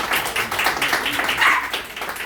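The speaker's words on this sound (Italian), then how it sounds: "Vorrei, eccolo qui, un bel applauso a Michelangelo" An audience at the presentation of a photography competition in Cagliari gives a brief, moderately loud round of applause for Michelangelo, the clapping steady and close.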